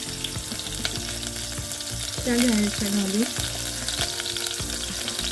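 Oil sizzles and crackles steadily as cumin seeds and finely chopped green chillies fry, with spoon scrapes against the pan and a few quiet spoken words over it.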